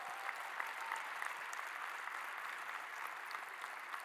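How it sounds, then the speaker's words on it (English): Faint, distant round of applause from an inaugural address crowd greeting City Administrator Rashad Young, a steady even patter of many hands clapping. "Give him a round of applause."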